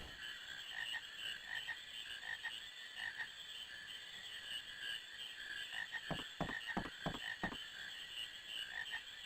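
A frog croaks several times in Final Fantasy IX, a burst of short rhythmic croaks over a steady electronic game soundtrack, with no talk.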